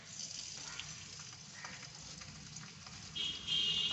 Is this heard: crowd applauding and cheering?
no